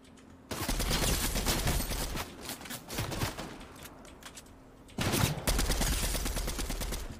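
Rapid bursts of gunfire from a gun in Fortnite, loud and dense, in two long volleys separated by a lighter stretch of scattered shots, with a steady game hum underneath.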